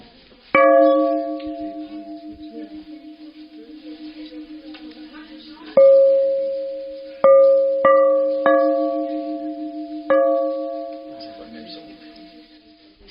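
A sculptor's stone rings out with a handful of struck, bell-like tones, each a sharp hit that rings and slowly fades, spaced irregularly with quiet gaps between.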